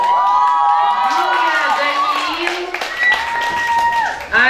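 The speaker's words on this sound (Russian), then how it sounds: "Встречаем бурными аплодисментами!" Audience at a youth camp talent show cheers, whoops and applauds loudly as a team is introduced, with excited shouting and an announcer's voice over the crowd.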